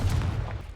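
A Confringo fire spell goes off in the Hogwarts Legacy video game, a short dull explosive boom with a low rumble that fades over under a second.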